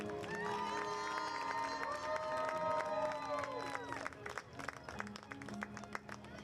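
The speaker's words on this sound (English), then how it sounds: "Let's hear it for Miss Bella Barber." Crowd noise at a high school football game as a homecoming court member is introduced, with cheering, shouts and scattered clapping mixed with whistle-like tones, loud at first and then thinning out.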